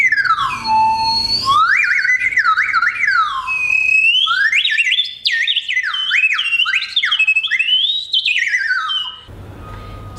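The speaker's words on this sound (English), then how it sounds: "is this little whistle that was made for me by my friend" A small handmade whistle made by Douglas Fitch plays a loud, continuous run of sliding, swooping chirps that rise and fall rapidly in pitch for about nine seconds, followed by a brief dull pause.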